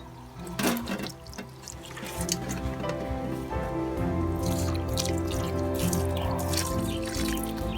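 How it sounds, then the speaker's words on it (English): Water pouring and dripping steadily onto plants in an allotment garden, a continuous close splashing with a faint drip pattern throughout. "Let's give them all the water."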